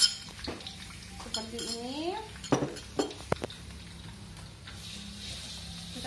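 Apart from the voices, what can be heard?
adding lemongrass, shallots and garlic to frying pan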